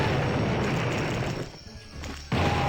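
Explosion blowing up zombies in the video game Blood: Cryptic Passage, a loud sustained blast that briefly dips before a second burst kicks back in.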